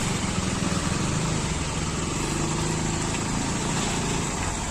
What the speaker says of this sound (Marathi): बघू शकता किती ट्रॅफिक झालेली आहे